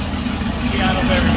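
An LS1-swapped Nissan 240SX engine idles steadily nearby with a low, even rumble, and a voice is heard over it.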